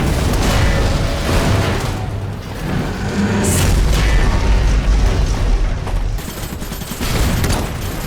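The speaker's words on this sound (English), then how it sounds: "Armed with a heavy cannon, it can strike opponents near or far" Heavy cannon fire from Polonia mechs in the strategy game Iron Harvest: deep booms and explosions roll together into a dense barrage, loud and close, with sharper cracks cutting through and no speech.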